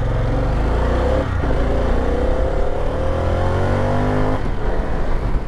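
A 2022 Harley-Davidson Pan America motorcycle engine revs up through the gears on the road, rising in pitch twice, loud and close with no talking.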